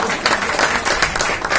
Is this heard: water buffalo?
no